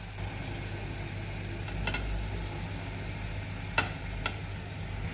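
Mushrooms fry in butter in a soup pot with a low steady sizzle and a faint hum underneath, punctuated by a few sharp clinks of a utensil against the pot.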